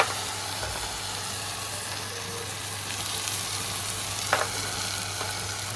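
Vaseti bhaji greens fry in a pan with garlic cloves, giving a continuous, dense sizzle and hiss with a faint scrape of stirring, steady and close throughout.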